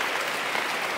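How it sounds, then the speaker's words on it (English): Conference audience at a panel on equity and opportunity claps in a dense, steady burst of applause filling the room, loud and continuous throughout. "I want a level 10 clap"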